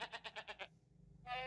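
A goat bleats in a rapid series of about six wavering pulses, then falls silent before one more higher bleat begins at the end.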